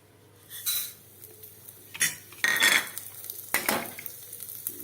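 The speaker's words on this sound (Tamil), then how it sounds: "அதே குக்கர்லேயே கொஞ்சம் நெய் ஊற்றி பாசிப்பருப்பை லேசாக வறுக்கிறேன்" Moong dal being roasted in ghee inside a pressure cooker, heard as intermittent bursts of metal stirring and scraping with a light sizzle between quieter pauses.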